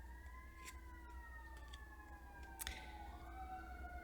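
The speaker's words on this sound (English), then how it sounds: "Okay, ambulances, fire trucks going by." Ambulance and fire truck sirens pass at a distance, several wailing tones sliding up and down and overlapping, faint and steady over low background rumble.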